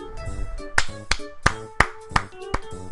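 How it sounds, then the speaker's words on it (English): Sharp, evenly spaced hand claps, about eight of them, ring out close and alone in a quiet room at a steady rhythm, each with a slight hollow ping. "That was me applauding, not like banging my head on the desk"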